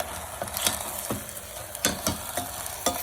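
Coriander paste being stirred into a simmering country chicken curry in a pot, with a soft continuous sizzle and several distinct spoon scrapes and knocks at irregular intervals, close and fairly quiet, no talk.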